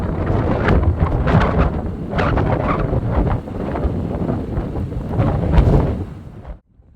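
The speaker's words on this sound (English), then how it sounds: "That is quite a storm." A heavy thunderstorm in the Utah desert near Little Wild Horse Canyon and Factory Butte, with rumbling thunder and strong gusting wind buffeting the microphone, loud and close before it cuts off near the end.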